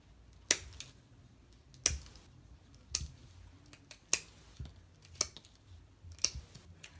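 Willow branches being cut into small pieces with scissors or shears, about seven crisp, sharp snips at an uneven pace, close and quiet with no talking.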